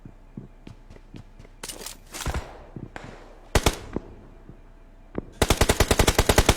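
Gunshots in a shooter video game: scattered single cracks, then loud bursts, and finally a rapid, evenly spaced automatic volley, with no talking.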